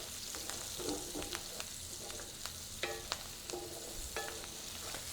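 Fresh oregano and garlic fry briefly in a pan, a low, quiet sizzle under repeated light clinks and scrapes of a utensil moving the herbs around.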